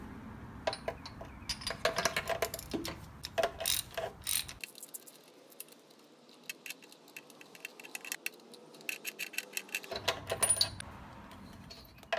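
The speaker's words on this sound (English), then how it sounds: "we're gonna pull the spark plugs now" Ratchet wrench with an 18 mm spark plug socket working the spark plugs out of a Yamaha Star 650 motorcycle engine, quick clicking ratchet bursts up close, with a quieter pause in the middle.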